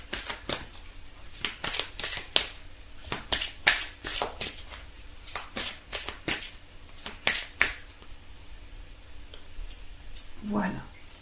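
Oracle cards being shuffled and drawn, a rapid run of crisp riffling snaps and flicks that slows and thins out toward the end, close and fairly quiet.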